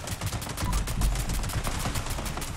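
A two shot explosive handmade rifle fires in Fallout 76, a dense, rapid stream of sharp, punchy shots and blasts running without pause, loud and close, no talk over it.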